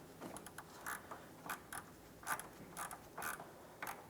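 A ratchet clicks in short, quiet bursts of several quick clicks while a 19mm coolant drain plug is tightened on a 2004-2008 Pontiac Grand Prix 3.8L V6, with pauses between strokes.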